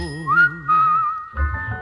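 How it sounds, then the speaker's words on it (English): Clear melodic whistling from a vintage Disney vinyl record, a rising note settling into a long sustained tone, then giving way to band accompaniment. "give a little whistle, give a little whistle"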